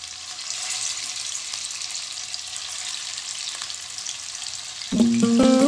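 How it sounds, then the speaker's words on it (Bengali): Hot oil sizzles steadily as mutton pakoras fry in a pan, a close, even crackle. A tonal sound breaks in near the end. "তেল গরম হয়ে গেছে, এবার একটা একটা করে ছেড়ে দিব।"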